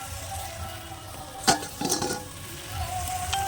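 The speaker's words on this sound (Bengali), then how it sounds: "চত্বরি বসিয়ে দিয়েছি কাঠের উনুনে লোহার কড়াইতে" A mixed vegetable chochchori sizzles softly in an iron wok over a wood-fired stove, with a sharp metal clink of a spoon and a few scraping stirs over the steady fry.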